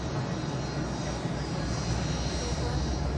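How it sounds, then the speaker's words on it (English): An airliner's engines make a steady, dense droning roar from inside the aircraft, continuous and fairly loud, with faint voices murmuring underneath. "the flight that reportedly has Snowden aboard has almost reached its destination here in Moscow"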